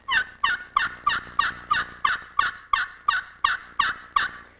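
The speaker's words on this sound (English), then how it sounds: "The Little Deuce 2 will be the first slate call we talk about" A Little Deuce 2 slate friction call is worked in a steady run of about a dozen evenly spaced turkey yelps, close and clear, alone with no talking.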